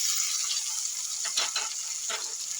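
Chopped garlic, ginger, green chili, onion and tomato frying in white oil, giving a soft, steady hiss with a few brief bursts of louder crackle as the pan is stirred, close by and without talk.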